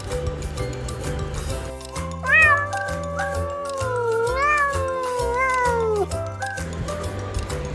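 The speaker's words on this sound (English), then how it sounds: "C-A-T, cat." A cat meows several times in a row, drawn-out and wavering, close and clear over a low background of music.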